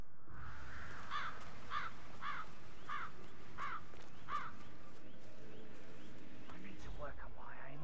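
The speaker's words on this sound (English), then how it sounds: "never get rid of those stupid birds." Crows caw in the Hitman 3 video game, six harsh calls in an even rhythm over about three seconds, fairly close, followed by a quieter stretch of game ambience and a fainter call near the end.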